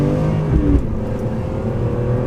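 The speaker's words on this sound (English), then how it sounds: "that's just accelerating. That's just the sound it makes. That's just its natural sound." Factory exhaust of a BMW E46 M3 under acceleration, a steady loud engine drone with rising harmonic tones through the short stretch, no talking.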